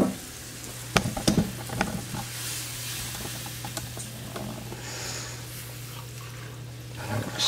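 Homemade enchilada sauce being stirred in a pan, with a steady soft sizzle and hiss running throughout and a few brief scraping clinks of the spoon near the start.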